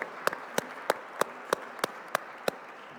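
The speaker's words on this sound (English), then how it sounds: "please do join me in a concluding round of applause to our panelists" At a religious freedom ministerial conference in Prague, the panelists get sharp, evenly spaced claps, about eight distinct strikes, close and clear rather than a full crowd roar.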